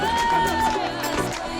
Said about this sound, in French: Bien applaudi nos finishers